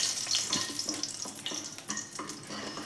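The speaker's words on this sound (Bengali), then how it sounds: "এবারে এর ভেতরে কালো জিরে ফোড়ন দিলাম, আর তার সাথে একটা শুকনো লঙ্কাকেও ফাটিয়ে দিয়ে দিচ্ছি" Nigella seeds and a dried red chili tempering in hot mustard oil, a busy crackling sizzle broken by a few stirring scrapes, close and alone with no talk.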